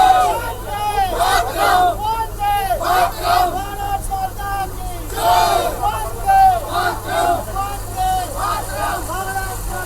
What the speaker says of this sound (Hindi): अंतिम दर्शन के लिए लोगों की किस तरह से भीड़ यहाँ पर है